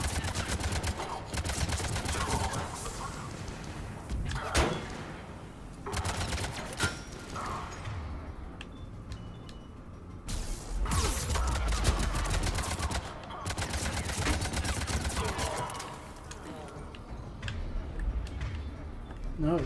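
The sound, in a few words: gunfire in video game Mass Effect 3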